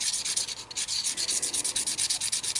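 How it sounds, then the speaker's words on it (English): A diamond stone is rubbed flat and steady over the top of a woodturning tool, a close, continuous rhythmic scraping of quick back-and-forth strokes with no speech. "Just get a diamond stone, hold it on there nice and flat, and just rub it around."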